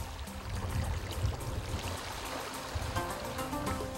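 Calm sea water at Port Royal, Jamaica, lapping and washing steadily with soft splashes and trickles, close by and continuous, no voices.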